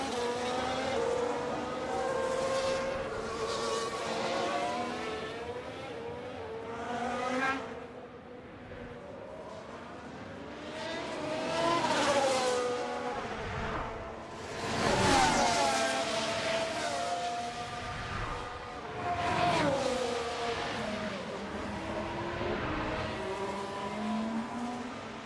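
An F1 race car in the F1 Manager 24 video game heads back to the pits at Las Vegas. The engine rises and falls as it shifts and runs, with occasional tire squeal over a steady, moderately loud drone.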